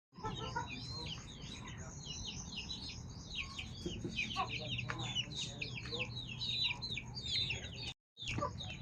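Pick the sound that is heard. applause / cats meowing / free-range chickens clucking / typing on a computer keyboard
free-range chickens clucking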